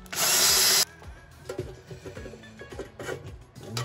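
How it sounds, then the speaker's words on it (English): A power drill bores a hole while building a candle heater, a loud steady whine for under a second, followed by softer handling clatter and knocks. "Get to drilling."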